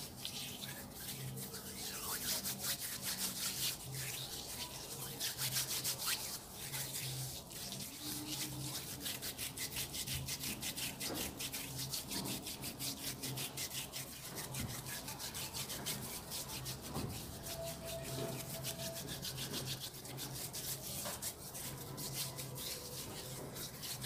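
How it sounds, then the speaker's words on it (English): Hands rubbed with a scrub and coconut oil make a steady, close, soft scratching and rubbing sound that goes on continuously with no pauses. "I'm going to add my coconut oil to it, and I'm going to further scrub this."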